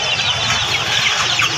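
Young chickens cluck and cheep continuously at a poultry market selling chicks, a dense, loud flock chorus close by with no talking.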